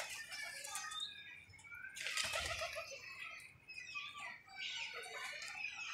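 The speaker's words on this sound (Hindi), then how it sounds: "ये भी ऊपर भी कबूतर बैठे हुए हैं" Pigeons kept in a rooftop loft give off bursts of flapping wings and light rustling, with a few faint chirpy calls over steady outdoor background noise.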